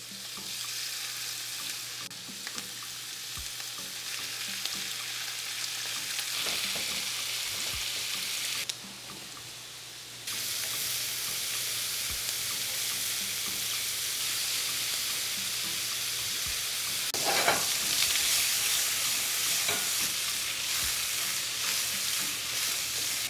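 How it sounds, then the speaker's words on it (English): Shrimp fry in a splash of oil over medium-high heat for a blackened shrimp salad, with a steady close sizzle and crackle running throughout, brief stirring scrapes, and a louder burst of spattering near the end; no talking. "A little splash of oil. And we're going to cook the shrimp on a medium-high heat."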